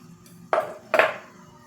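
A utensil clinks twice against a bowl while custard premix is stirred into milk to make a smooth, lump-free paste. The two sharp ringing taps are close and distinct, with a quiet background between them.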